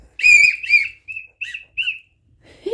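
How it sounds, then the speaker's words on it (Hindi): Loud, high whistling in a series of about five short bursts, the first two longer and the rest brief and clipped, each separated by silence. "जोर से सीटी बजाओ"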